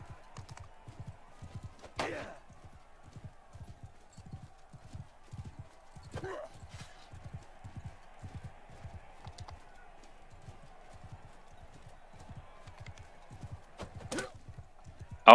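Rhythmic clip-clop of horse hooves at a steady gallop in Mount & Blade Bannerlord, running continuously with brief louder clashes and a faint whinny, while speech runs over it.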